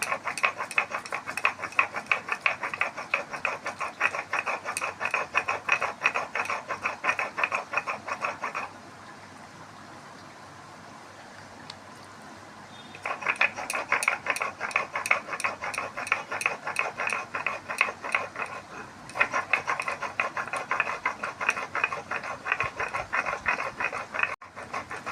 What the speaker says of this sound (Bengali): গরম মশলা তো মিহি করেই বাটে